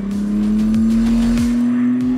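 A McLaren Artura hybrid supercar, running a smaller engine with fewer cylinders than earlier McLarens, hums steadily on track from onboard as a loud, rising engine drone with quick ticking shifts and no talk.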